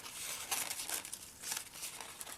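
Small scissors snip through specimen card paper, giving a run of crisp, close crinkling cuts in quick bursts with no talk.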